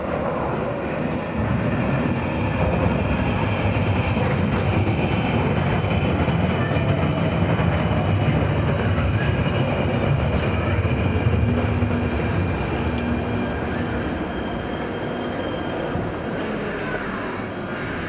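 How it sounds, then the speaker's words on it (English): A southbound Northern line London Underground train runs into a station, a steady loud rolling roar with rising wheel squeal and faint rail clatter, no talk over it. "next southbound Broadway train will station Morden approaching"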